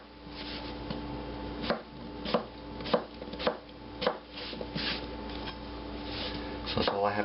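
A knife chops potatoes into chunks about three-quarters of an inch long on a cutting board, giving a run of sharp, close chops at an uneven pace over a steady background hum.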